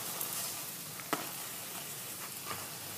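Pita flatbread fries in an oiled pan with a soft, continuous sizzle close by, broken by a couple of faint clicks and scrapes.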